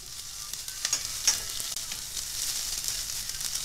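Onion and garlic sautéing in a hot pan for sarciadong bangus, a steady soft sizzle with light crackles and occasional stirring clicks, close but fairly quiet.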